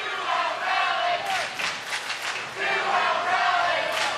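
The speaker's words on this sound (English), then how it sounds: "2-out rally chant comes up from the Idaho crowd" An Idaho crowd chants a two-out rally chant at a Little League World Series baseball game, a loud, sustained, rhythmic mass of voices that swells and dips across the stands.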